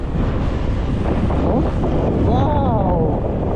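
Steady wind buffets the microphone with a constant low rumble beside a highway in the Philippines, and a faint warbling whistle rises briefly in the second half.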